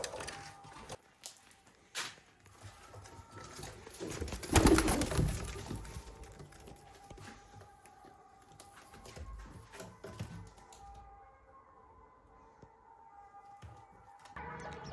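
Soft pigeon coos come and go over a noisy, cluttered rooftop background, with one louder rustling burst partway through.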